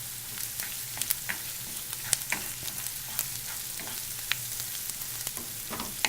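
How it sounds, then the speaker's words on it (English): Smoked salmon being stirred with garlic and onions in a pan gives a soft, steady sizzle dotted with frequent sharp spoon clicks and scrapes, close and alone. "Mix that in with the garlic and the onions really well."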